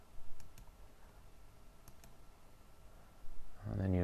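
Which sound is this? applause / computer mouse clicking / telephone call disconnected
computer mouse clicking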